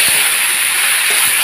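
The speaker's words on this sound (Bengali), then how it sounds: "তো এখন মাংসটাকে দেওয়া হচ্ছে ভালোভাবে কষিয়ে নেওয়ার জন্য।" Chicken meat frying with spices in little oil, a loud, steady broadband sizzle and hiss that holds unbroken throughout, close up with no voices.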